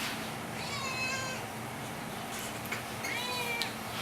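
A neighbor's cat meows twice, each a faint drawn-out cry a few seconds apart, over a steady background hiss with no talking.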